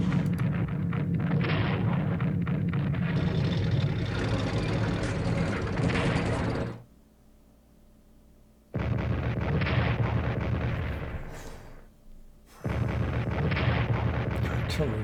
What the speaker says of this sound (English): Artillery is so powerful.